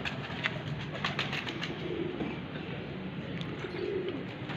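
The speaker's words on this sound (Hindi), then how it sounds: "पहले हम ये बाहर वाले कबूतर अपने खोलते हैं ताकि ये नीचे आ" Pigeons kept on a rooftop coo softly and repeatedly over a steady outdoor background hum, with a few faint wing flaps and no clear talking.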